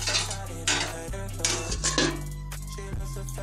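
A metal spoon stirs potato curry with peas in a pot, with several close scraping clinks and clatters against the pan over a low steady hum, with no talking.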